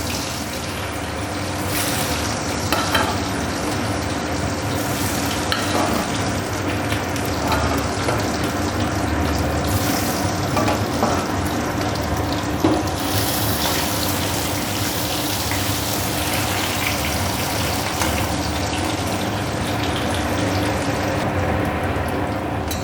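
Boiled potatoes rubbed with salt and turmeric fry in hot oil in a pan, giving a continuous moderate sizzle with small crackles and occasional stirring clatter, close and steady throughout.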